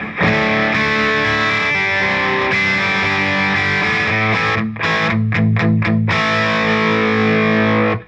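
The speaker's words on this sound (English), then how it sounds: "I'm playing my Epiphone ES335 Pro, traditional Pro right now, obviously through the BOSS Katana." Heavily distorted electric guitar, an Epiphone ES335 Pro played through a BOSS Katana Artist MKII amp, plays sustained chords and short choppy stabs, loud and close with a thick, saturated tone, no voices.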